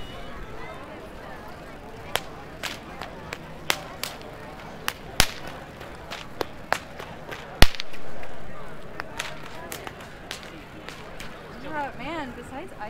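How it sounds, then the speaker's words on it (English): Whips crack at a renaissance fair, sharp snapping reports coming irregularly every second or so over crowd murmur and nearby talk. "that clicking noise is the sound of whips"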